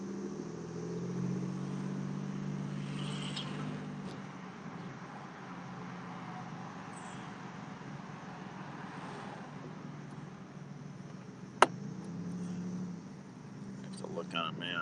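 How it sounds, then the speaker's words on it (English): Steady roar of traffic on Interstate 75 far below, a continuous broadband wash of passing vehicles heard from a distance, with people talking over it. "I can hear the roar of the traffic down below."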